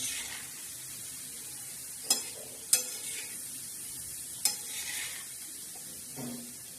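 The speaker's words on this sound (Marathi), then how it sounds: "आता आपण टाकणार आहोत हे बघा कारले आता छान अशा हलवणार आहोत आपण" Bitter gourd (karela) is tossed and fried in a pan under a faint steady sizzle, with three or four sharp metallic spatula clinks against the pan spaced a second or two apart.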